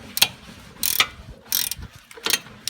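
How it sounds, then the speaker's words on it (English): Ratchet turning 18mm sockets to break loose the front shock bolts on a Volvo XC70, four short bursts of clicking pawl close up, spaced about half a second apart, no talking. "take two 18mm sockets and put one on this side and one on this side, and just break them both loose going counterclockwise on each side"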